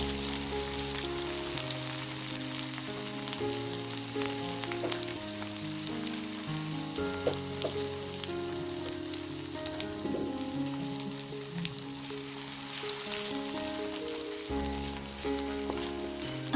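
Ginger and garlic tempering frying in hot oil for an Odia fish fry, a steady dense sizzle with bubbling crackle running throughout, fairly loud and close, with no voices.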